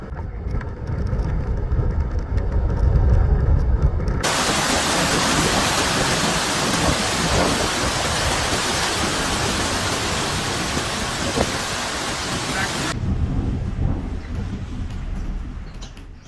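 Typhoon Dolphin lashing Okinawa, Japan: a dense, loud wash of heavy rain and wind, with a sudden stretch of broadband roaring noise that cuts in and then drops back to steady downpour.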